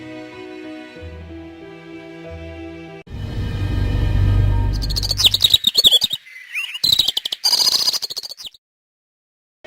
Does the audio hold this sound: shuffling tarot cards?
no